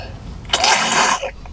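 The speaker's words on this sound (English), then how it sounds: "See, he just coughed it all up." A dog coughs something up in one harsh burst lasting about half a second, close and fairly loud, followed by quiet.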